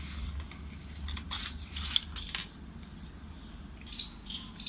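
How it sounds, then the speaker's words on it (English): Repeated crisp snips of scissors cutting through paper for a craft shape, several short strokes close by over a steady low background hum, with faint bird chirps. "Now let's remove this shape using scissors."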